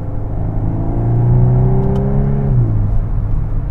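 Volkswagen Golf 8 R with a 320 hp turbocharged engine revs: a steady, loud mechanical drone climbs in pitch for a couple of seconds, then drops back to a lower rumbling idle, heard up close with no voices.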